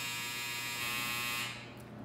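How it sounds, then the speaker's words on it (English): A clothes dryer's electronic buzzer drones with a steady, harmonically rich tone for about a second and a half indoors, then cuts off, leaving a low room hum. "There's my buzzer again on my dryer."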